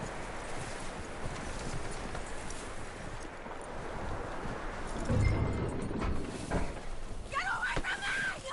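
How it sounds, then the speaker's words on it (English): Horse hooves clip-clop at a steady walking pace in Red Dead Redemption 2, moderately close, with a heavier thud midway and a brief animal cry near the end; voices talk over parts of it. "That looks like a decent horse."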